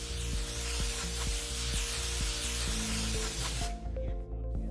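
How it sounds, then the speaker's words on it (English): A spray can of grease hisses in one long continuous burst up close onto a bicycle frame's spring duct, over a steady low hum with faint regular ticks, then cuts off abruptly. "spray the spring duct with some grease"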